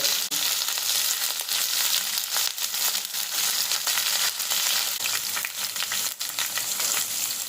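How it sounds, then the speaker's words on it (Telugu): Garlic and onions fry in a hot pan with a loud, steady sizzle and crackle, occasional stirring scrapes breaking through the continuous hiss. "వెల్లుల్లి వేసా ఆనియన్స్ వేస్తున్నాం"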